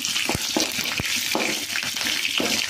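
Green chili, carrot and onion sauté in oil in a pan, a close, dense sizzle broken by several sharp stirring scrapes and knocks at irregular intervals.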